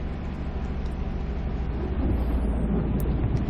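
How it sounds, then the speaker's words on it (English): Deep rolling thunder in Euro Truck Simulator 2, rumbling steadily and swelling louder toward the end, with no one talking. "Ooh, thunder."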